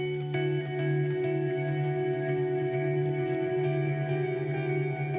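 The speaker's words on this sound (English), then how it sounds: "So we'll keep the reverb in." Reverb-heavy contemporary rock track with sustained guitar chords and a long, smeared tail washing over the steady mix, loud and continuous throughout.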